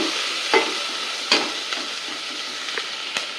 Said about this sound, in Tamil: இப்போ இதெல்லாம் நல்லா வதங்கணும்.